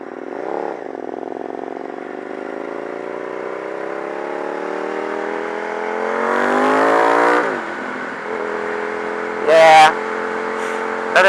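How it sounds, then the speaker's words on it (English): A KTM Super Duke V-twin motorcycle engine revs up in a long rising pull, then drops back with rumbling and brief sharp bursts, loud and close while riding. "Nothing like a V-twin."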